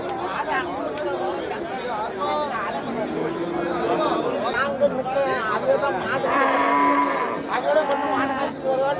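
Cattle moo repeatedly among a crowd at the Melapalayam cattle market, with people chattering and calling out in a busy, noisy ambience throughout.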